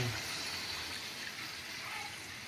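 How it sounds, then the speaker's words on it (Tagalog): Broth poured into a pot of Filipino vegetable stew, a steady soft watery trickle and gush running continuously and fairly faint, close by. "Lagyan na po natin ang konting sabaw."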